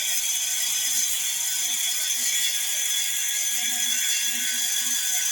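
A cutter is tightened around a glass pipe to score it, giving a steady dry mechanical whir with faint repeated ratcheting clicks, close and continuous.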